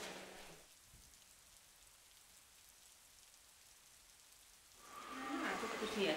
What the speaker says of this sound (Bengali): এমন বৃষ্টির কোনো মানে হয়?